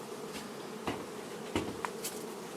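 Honey bees buzz around an opened hive frame in an apiary, a steady low hum broken by a few sharper passing buzzes close to the frame, with no voices.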